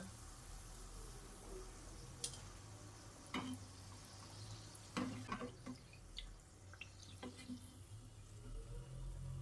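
Balushahi dough balls deep-fry in hot oil, a faint, steady bubbling hiss with a few soft pops and clicks scattered through it, heard at low volume from a short distance.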